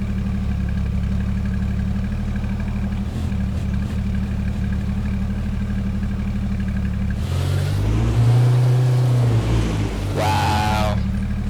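A truck engine idles in the H1Z1 video game with a steady low rumble, then rises into a louder revving surge near the end, with no talk over it.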